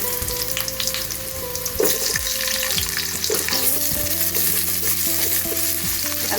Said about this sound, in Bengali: সর্ষের তেল দিয়ে আলুটা ভেজে নেবো আগে